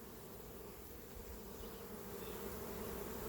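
Honey bees in a strong, powerful hive hum as a steady, dense buzz close by, holding level throughout and growing slightly louder toward the end.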